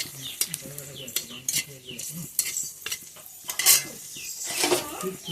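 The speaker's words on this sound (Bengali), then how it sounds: "তেলটা গরম হয়ে গেছে, এবার দুটো শুকনো লঙ্কা ফোড়নে দিয়ে দিই।" Dried red chillies are tempered in hot oil in a pan. Bursts of sizzling crackle mix with close clinks and scrapes of a utensil stirring against the pan.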